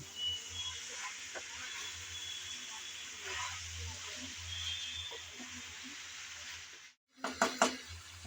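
Papaya curry cooks in a pot with a steady hiss and soft scraping as it is stirred, then a brief pause followed by a few louder clanks of the utensil against the pot.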